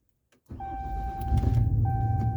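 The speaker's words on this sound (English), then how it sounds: "Let me fire this truck up" A 2021 Ram pickup truck engine cranks and fires up with a sudden loud onset, settling into a close, steady idle rumble with a faint electronic tone over it.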